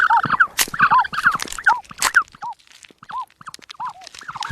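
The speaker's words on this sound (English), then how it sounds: "A gentle cheeping from within the eggs" Ostrich chicks cheep from inside their eggs in a desert nest, giving a run of short, bright, rising-and-falling peeps repeated every half second or so, close and clear with a few soft clicks between, no talking.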